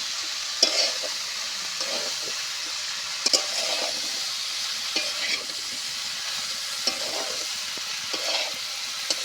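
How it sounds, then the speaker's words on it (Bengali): Snake gourd (chichinga) pieces stir-fried in a pan, a steady oil sizzle with repeated scraping clatters of a spatula every second or two, close and moderately loud. "দিয়ে খুব সুন্দর মতো করে নেড়ে চেড়ে আমি ভেজে নেব।"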